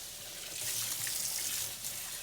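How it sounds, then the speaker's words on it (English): Hot water runs steadily from a sink tap during dishwashing, a broad continuous hiss and splash that swells slightly louder midway, with no voices over it. "Welcome to the portion of the stream with the hot water running."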